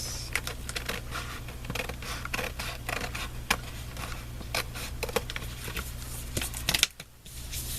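Scissors snip through paper for a 12x12 collage, a string of close, crisp cuts with rustling paper handling in between, no talking.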